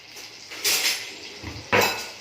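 A spoon clinks twice against a bowl while tossing bread cubes with melted butter for bread omelette pizza, two short bright scrapes close by with quiet pauses between.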